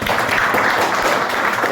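An audience at a motivational talk breaks into loud, continuous applause, a dense wash of clapping hands that fills the moment with no pauses.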